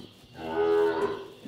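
A high-genetics cow on a ranch in Chaco lets out a single long, loud, close moo that swells and then fades, with no talking over it.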